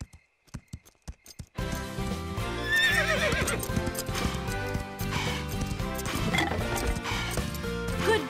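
A horse whinnies over steady clip-clopping hooves, preceded by a few sharp isolated knocks, all under a dense, loud backdrop of music.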